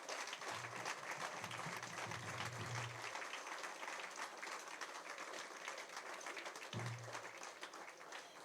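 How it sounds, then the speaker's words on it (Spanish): A Spanish-speaking church congregation applauding during a service, sustained steady clapping from a crowd, fairly distant and even, with a brief murmur of voices underneath. "Denle un aplauso fuerte a Jesús."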